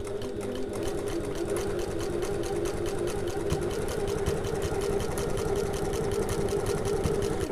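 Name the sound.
sewing machine stitching mesh pocket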